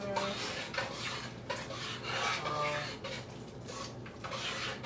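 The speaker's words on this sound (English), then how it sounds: "And we just stir it all together." Vegan ingredients are stirred together in a bowl during a spicy cooking class, giving a continuous scraping, clinking rub of utensil on dishware with faint voices in the background.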